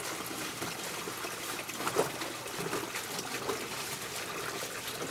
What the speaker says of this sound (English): And now you see the water is released.